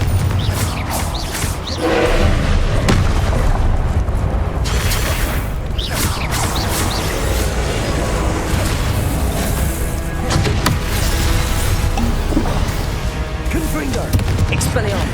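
Blasting spell explosions in the Hogwarts Legacy video game boom loudly and repeatedly through a continuous dense din of combat effects, with no clear isolated gaps between hits.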